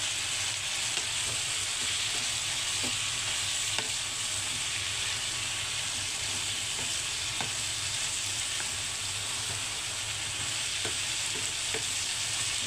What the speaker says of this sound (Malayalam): ഇനി നമുക്കിതിലേക്ക് സോയാ സോസ് ഒഴിച്ചു കൊടുക്കാം.